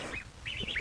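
Indian runner ducks on a farm giving short, soft nasal calls, two brief bursts close by against a quiet background.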